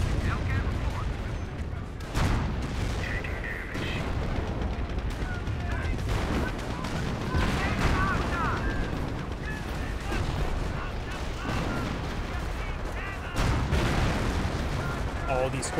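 A Company of Heroes 1 battle rumbles with artillery fire, dense booming blasts and crackling gunfire rolling on without pause, while a voice talks over the din.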